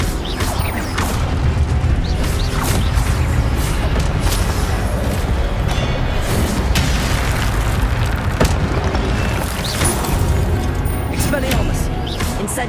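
Incendio fire spell blasts in Hogwarts Legacy, a dense stream of booming bursts and crackles over constant combat noise, with repeated strikes across the whole stretch and a voice talking in the mix.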